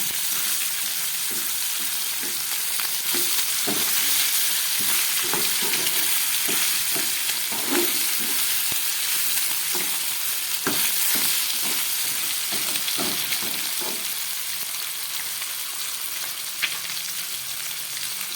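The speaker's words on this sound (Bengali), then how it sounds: "মশলা দিয়ে মাথাগুলোকে একটু ভালো করে ভেজে নিচ্ছি" Fish heads coated in spices fry in hot oil with a steady, dense sizzle, broken by repeated scraping stirs of a spatula throughout, close and alone with no talking.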